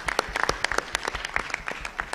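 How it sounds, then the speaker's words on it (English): Applause rises from an audience at a national quiz finale for the runners-up team, with distinct individual claps standing out in an uneven, fairly close patter. "do applaud for them"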